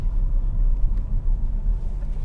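A Buick Encore GX's turbocharged four-cylinder drones low and steady under hard acceleration through a roundabout, a close, continuous rumble with no talking.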